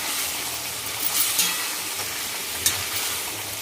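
Peas are stirred into dry mutton masala in a pan, a continuous hot sizzle with soft scraping strokes and a couple of brief clinks, no talking over it.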